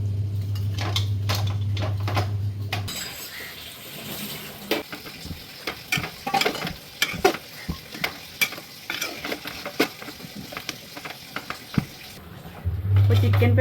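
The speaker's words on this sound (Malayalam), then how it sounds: "കുറച്ച് ഉപ്പും ചേർത്ത് നന്നായിട്ട് മിക്സ് ചെയ്തിട്ട് ഒരു 10 മിനിറ്റ് കൂടി അടച്ച് വെച്ച് വേവിക്കട്ടോ" Chicken perattu cooks in a pan, with a low sizzle broken by irregular clinks and scrapes of stirring. A louder, steadier hum bookends the sequence at the start and end.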